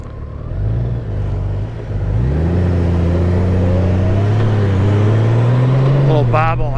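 A 2023 Honda Gold Wing motorcycle is ridden, its engine humming steadily and rising in pitch as it accelerates, with loud wind noise and someone talking over it.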